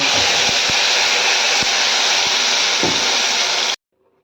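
Ground tomato paste hits hot oil seasoned with mustard seeds and curry leaves for a tomato chutney, giving a loud, steady broadband sizzle with a few crackling pops, close up, ending abruptly.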